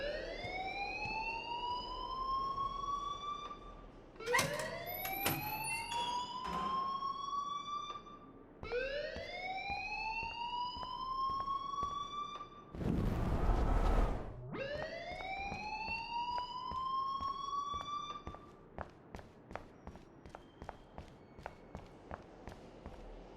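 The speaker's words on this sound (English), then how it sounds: "please turn off that alarm since that's your job." An alarm rings in the video game Life Is Strange: a series of loud rising electronic whoops, one after another, broken by a brief burst of noise. Soft, regular footstep-like taps follow toward the end.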